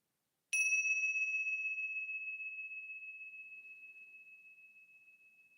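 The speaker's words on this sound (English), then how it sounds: "listening to the sound of these tingshas," Tingsha bells are struck once and give a single bright, pure ring that slowly decays over several seconds in near silence.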